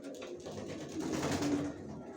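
White racer pigeon chicks cooing softly in a loft, a faint, low, continuous murmur of coos with a slight swell in the middle, close but quiet.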